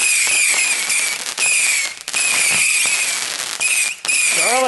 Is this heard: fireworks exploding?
yes